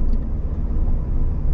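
A car drives along a road in Sicily, heard as a steady, close low rumble of engine and tyres with no other sounds standing out.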